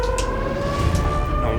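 Siren Head's wailing siren, steady sustained tones holding across the whole stretch with a faint rumble beneath, loud and close, no talk.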